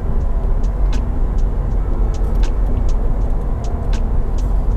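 Toyota Veloz 1.5 cruising on a semi-urban road at about 85 to 90 km/h, a steady loud interior drone of engine and tire rumble with no talk.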